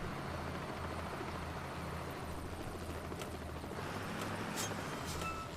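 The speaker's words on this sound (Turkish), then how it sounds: "Helikopter de bizi takip ediyor şu an koruyor." Steady helicopter rotor drone following a bus in the video game Bus Driver, continuous and moderately loud throughout with no talking.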